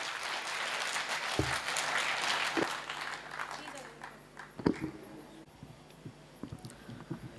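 Audience applause at a Hindi poetry gathering, a broad crowd clapping that swells early and then thins into scattered claps, with voices talking over the fading tail.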